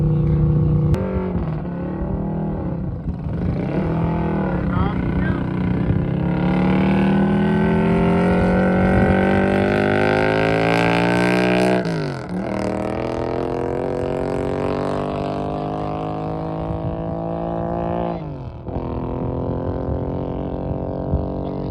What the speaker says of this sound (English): We have another one in the bike class, another sidecar bike. They're getting it warmed up.